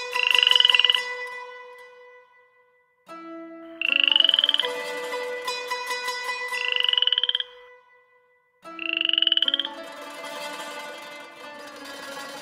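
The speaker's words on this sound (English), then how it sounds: "Jazz, turn into a frog" A cartoonish frog croaks in four loud bursts of rising, warbling croaks, each followed by a lower drawn-out tone and pauses between, with no talking.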